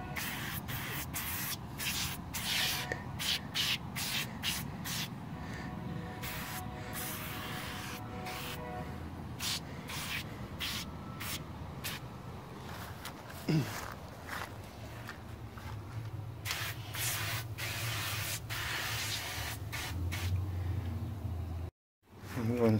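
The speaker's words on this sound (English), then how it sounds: "I'm gonna spray some on the inside of my smoke box door" A spray can hisses out paint inside the door of a BBQ smoker's firebox in short repeated bursts, close up, with shuffling footsteps and handling noises between sprays.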